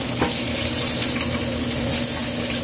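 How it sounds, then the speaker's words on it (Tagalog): Water is poured into a hot pan of pork pares, producing a loud, continuous sizzle and gushing splash that fills the moment. "Lagyan natin siya ng tubig para matakpan na natin yan hanggang lumambot."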